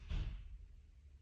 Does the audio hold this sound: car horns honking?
no